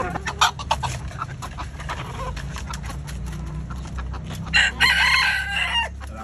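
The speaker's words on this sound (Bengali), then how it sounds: "আমাদের মুরগিটাকে কুচে বসাইছি।" A brooding hen sitting on twelve eggs in a rooftop garden, with fowl calls and crowing-like cackles coming through repeatedly over a steady low background hum, fairly close and loud.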